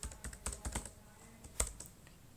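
Quick keystrokes on a computer keyboard as a table name is entered, a close, light run of clicks with one sharper tap near the end.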